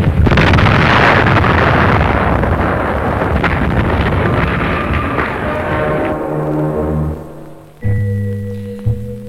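A deep, heavy underground explosion, set off more than 200 metres below ground in 1962, rumbles and roars for several seconds, then trails off into lower, uneven rumbling and thuds.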